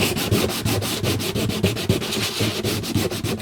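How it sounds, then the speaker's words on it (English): Sandpaper rubbed briskly back and forth along the edge of a guitar, a fast, even rhythm of loud, close, raspy strokes with no talking. "So I've actually got a bit of sandpaper as well, just to sort of roughen the edge."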